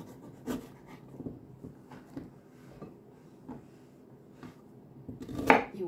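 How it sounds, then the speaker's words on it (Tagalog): A knife chopping celery into small pieces on a board, close and fairly soft, with a dozen or so evenly spaced taps and a louder knock near the end. "Hiwain din natin ng maliliit na hiwa"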